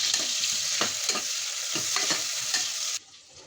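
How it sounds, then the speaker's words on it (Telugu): Onions and green chillies frying in a pan, a steady dense sizzle with occasional stirring scrapes, close and loud, cutting out abruptly near the end. "ఉల్లిగడ్డ, పచ్చిమిరపకాయ మంచిగా వేగాలన్నమాట ఎర్రగా"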